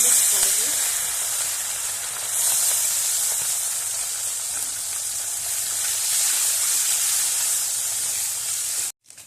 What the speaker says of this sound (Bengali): গরম হয়ে গেছে, এবার ছোট মাছগুলো ছাড়বো।